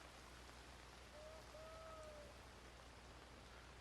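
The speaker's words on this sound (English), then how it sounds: "A little rainy outside." Steady rain falls in the wild outdoors of Red Dead Redemption 2, a soft, even hiss that holds at low level throughout, with a couple of faint tonal whistles briefly rising above it.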